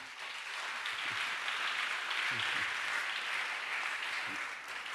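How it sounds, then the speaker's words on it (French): A church congregation applauds to acclaim the Lord during a French-language deliverance service, with steady, dense clapping sustained throughout and a few low voices murmuring underneath. "Nous acclamons pour le Seigneur"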